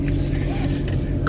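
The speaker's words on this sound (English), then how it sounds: "Okay guys, I'm here in the car now." Steady low rumble of a car interior during a drive, broad road and engine drone filling the space with faint murmuring on top and no clear talk.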